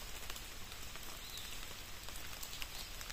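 Heavy rain pours down on a road in Okinawa during a motorcycle trip, a steady, dense hiss of drops spread evenly and fairly softly throughout, with no talking.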